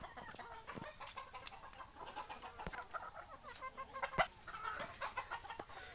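Desi Sonali chickens clucking on a poultry farm, a busy flock of overlapping clucks and short calls with a few sharp peaks, fairly close and steady throughout.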